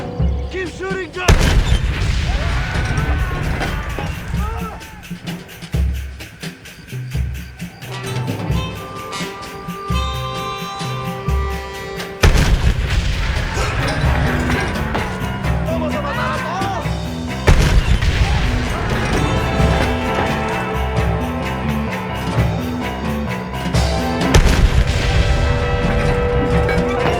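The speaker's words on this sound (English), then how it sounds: "Keep shooting, John!" Gunfire and heavy booms in Red Dead Redemption at the battle for El Presidio, with sharp shots and loud crashing impacts under orchestral music and shouted voices across a long, chaotic stretch.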